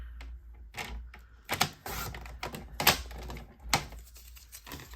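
Paper being trimmed for a card on a paper trimmer, with several sharp, close sliding cuts and clacks separated by short pauses, quiet and without talk.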